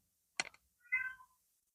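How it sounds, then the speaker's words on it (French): A cat gives a short, sharp meow, then after a brief pause lets out a longer, rising and falling meow, close by in an otherwise quiet room. "Je suis vraiment désolée pour le bruit des chats."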